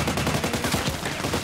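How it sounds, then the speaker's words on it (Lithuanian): Rapid bursts of automatic gunfire fill the first-person shooter Contract Wars, loud and continuous with quick repeated shots overlapping throughout. "man iš šono šaudo"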